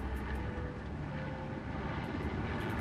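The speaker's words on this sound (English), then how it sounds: "flying frigate గా ప్రసిద్ధి చెందిన సీకింగ్ హెలికాప్టర్ ఇప్పుడు జోన్ నుండి బృందాన్ని వెలికి" A Sea King naval helicopter returns to a low hover during a military demonstration, its rotor and engine giving a steady, dense, droning roar that holds constant and fairly loud, with no talk.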